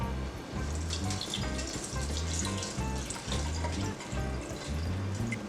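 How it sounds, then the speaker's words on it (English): Overproof-rum falernum liquid strained through a fine mesh strainer into a funnel, giving a steady, continuous pouring trickle that runs close and fairly full for the whole stretch. "I'm gonna use like a fine mesh strainer into a funnel, and you pretty much just wanna strain all this liquid out"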